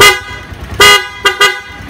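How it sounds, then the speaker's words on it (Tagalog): A car horn honks loudly and up close, first with one longer blast and then two quick short toots. "Tapos gumana na yung busina."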